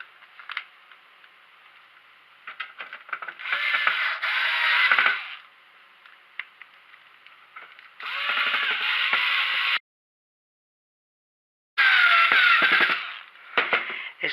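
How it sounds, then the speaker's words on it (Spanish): Screws are driven into a PS4 fat console during disassembly and maintenance: three separate bursts of close, whirring ratchet-like driver noise, each lasting a couple of seconds, with clicks and handling sounds in the pauses between. "Lo siguiente, vamos a poner los tornillos que corresponden al lado, digamos, desde el centro hacia la derecha."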